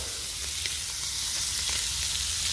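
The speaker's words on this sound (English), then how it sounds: "so that it sizzle around the blackened fish" Butter sizzles and crackles around blackened cobia fillets and peppers in a hot pan, a steady close-up frying hiss with small pops and no talking.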